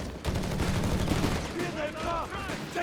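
A grenade blast and a burst of small-arms fire in the war strategy game Company of Heroes 3, loud and crackling at first and then easing off, with a commentator talking over it.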